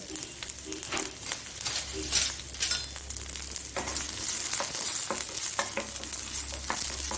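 Chopped onion frying in a pan for Mangalore-style squid roast masala, a continuous close sizzle broken by repeated scraping and stirring strokes of a spatula, with no one talking.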